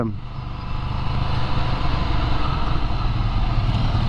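Several 2023 Ducati Scrambler motorcycles rumbling nearby at a launch ride, a continuous dense engine drone holding steady as the group pulls away.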